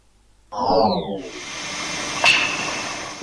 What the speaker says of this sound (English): that sound is apparently produced by the Aurora Borealis, the northern lights.